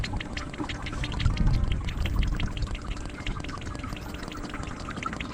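Hydro fluid oil from a Kubota BX23S compact tractor drains into a pan as a steady pouring, splattering stream, continuous and fairly close for the whole stretch, with no talking.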